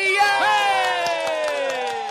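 A crowd at a Sinterklaas party cheers with a long, sustained drawn-out shout, while scattered hand claps sound faintly underneath.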